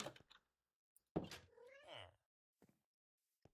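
A cat meows in the Minecraft video game, with a few short yowling calls near the middle. They are moderately loud and stand alone, with faint clicks and thunks around them.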